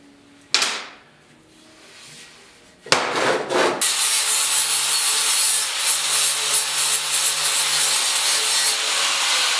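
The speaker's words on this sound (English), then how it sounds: "I'm going to grind a groove into this piece of pipe here" Grinder cutting a groove into a steel pipe for a welded TV stand, a couple of brief contact bursts before a continuous loud harsh grinding hiss, close by with no speech.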